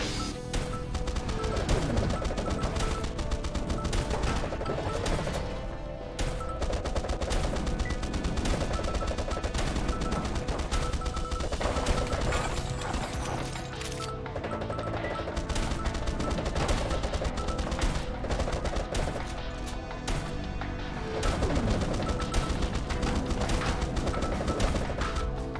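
Dense, nonstop weapon fire from a railgun and seeking bullets in the video game Swarm Grinder, a loud rapid barrage of shots and impacts layered with crashes that barely lets up across the whole stretch.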